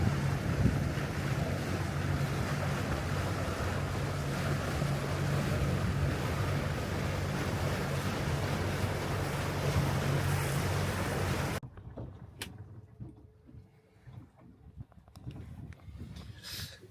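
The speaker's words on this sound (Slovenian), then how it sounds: "piha pa že kar dober" Strong wind blows over a boat at anchor, a dense continuous roar of gusts and water noise for most of the stretch before it suddenly drops to a much quieter hush.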